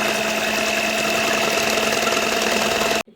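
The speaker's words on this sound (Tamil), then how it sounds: "இப்போ பீட்டர் வச்சு பீட் பண்ணிப்போம்." An electric hand beater whirs through brownie batter of melted chocolate in a steady, close, loud motor whine with a faint rattling texture, stopping abruptly at the end.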